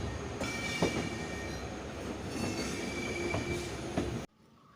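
The Venad Express rolls into Shoranur Junction station with a steady rumble of wheels on track, occasional high metallic squeals and faint clacks, before the sound cuts off abruptly.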